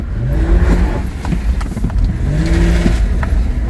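A V8 Ford car engine rumbles and revs up close and loud, its deep note rising and falling in several short surges with no talk over it.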